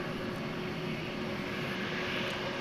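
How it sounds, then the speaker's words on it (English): An Airbus A321 airliner arriving at DFW Airport at night gives a steady, distant engine roar that holds evenly throughout, with no talk over it. "it is an Airbus A321."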